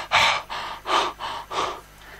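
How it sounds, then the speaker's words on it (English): A man pants out of breath, five heavy rhythmic breaths close up, loud and alone. "He panted."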